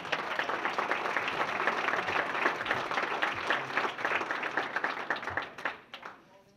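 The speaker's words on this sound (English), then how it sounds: "Once again, a big round of applause for Ms. Pat Ward-Seib." Audience applause fills a hall of fame induction ceremony at Murray State, steady dense clapping that holds for several seconds, then thins and fades out near the end.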